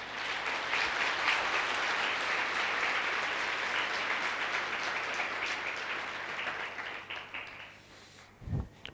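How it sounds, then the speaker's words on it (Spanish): A church congregation gives a long, strong round of applause, dense clapping from many hands that fades away near the end, followed by a brief low thump. "Denle un fuerte aplauso al Señor por eso"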